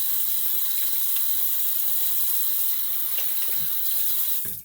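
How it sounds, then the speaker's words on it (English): Steady running tap water splashes into a sink for the whole stretch while someone rinses off, a continuous close wash of water with a few small splashes and clunks and no talking. "let me rinse off"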